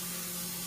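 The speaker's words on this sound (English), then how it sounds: "So we're gonna spray some on our chicken" A pump oil sprayer, pressurized without propellant, misting cooking oil onto chicken for fajitas, a short steady hiss of spray with no talk.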